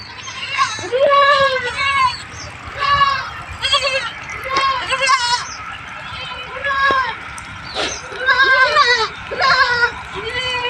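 Goats bleat repeatedly on a goat farm, a dense chorus of wavering, nasal calls from several animals at close range, overlapping one another with brief pauses, while someone talks over them.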